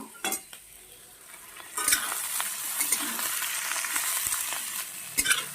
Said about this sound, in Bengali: তেলটা গরমও হয়ে গেছে দিয়ে দেব আলু আর ওলকপিটা দিয়ে দিলাম ওটা আমি ভাজতে থাকবো